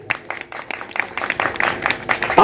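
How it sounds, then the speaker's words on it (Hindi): Audience applause at a Hindi bhajan jagran: a crowd of hands clapping in a dense, steady patter that swells slightly toward the end, with no voices over it. "एक बार ताली बजा दो।"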